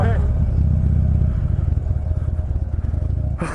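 Motorcycles riding away: a loud, close engine roar holds steady, then rumbles with rough, uneven pulses as the bikes pull off, with voices faintly underneath.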